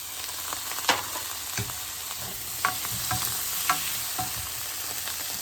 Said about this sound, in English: Try and roast from the bottom side, the skin side.